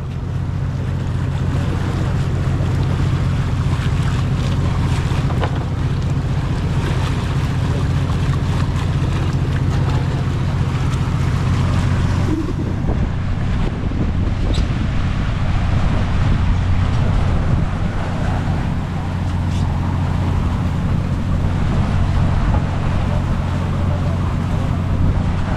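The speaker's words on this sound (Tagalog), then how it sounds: "Lalaki ng alon, no?" Big sea waves surge and wash around a moving boat out at sea near an island, a continuous loud roar of water with engine rumble and wind buffeting throughout.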